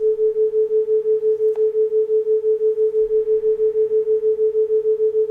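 Two steady pure sine tones at different frequencies hum as a binaural beat with a slow, regular pulsing, about four throbs per second, clean and unchanging throughout.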